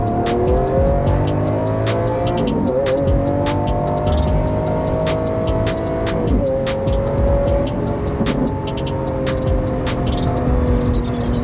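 2020 Lamborghini Aventador S pulling hard on a highway, its engine whine rising through gears with quick shift dips, loud and in-cabin, punctuated by repeated sharp clicks and ticks throughout.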